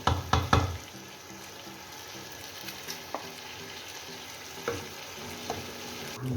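Shrimp hit hot oil in a pan with boiled taro root (kochu mukhi) for a curry, giving a steady close sizzle with a few sharp knocks and stirring clatters at the start.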